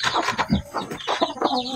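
A chicken clucks and squawks in a quick, close series of short calls, fairly loud, with no talking.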